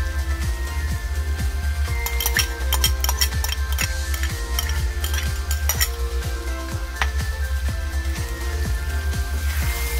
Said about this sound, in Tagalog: Haluin, haluin, haluin.